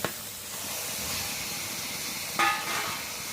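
Mutton drops into a hot pan of onion, ginger and garlic, setting off a steady close hiss of sizzling with a sharper flare of spitting partway through.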